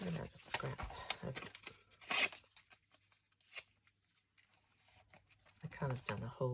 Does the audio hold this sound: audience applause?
no